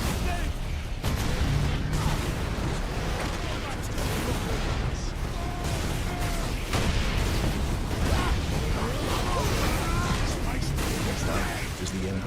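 Rocket launchers fire in the Warhammer 40k Space Marine video game amid dense, loud combat: booming blasts and rapid bursts overlap continuously, with voices mixed into the din.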